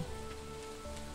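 In the Stardew Valley farming game, gentle rain falls as a constant soft hiss over low background tones, quiet and even for just over a second, with no voices present.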